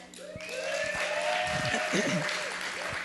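A church congregation applauds officers being honored, clapping running under a voice and a sustained tonal hum or music, moderately loud and continuous.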